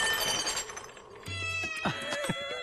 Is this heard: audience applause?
no